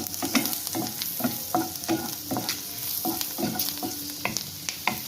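Garlic fried over medium heat in a pan for a creamy mushroom dish, rhythmic spatula knocks and scrapes over a soft, steady sizzle, close and clear.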